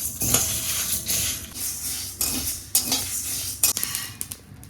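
A metal utensil scrapes and clinks in a wok while dry spices for green mango oil pickle are stirred and toasted, with a faint hiss underneath; no talking.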